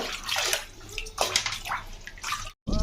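Chicken legs being washed by hand in a bowl of water, sloshing and splashing in several bursts, close and fairly loud, with a brief pause near the end.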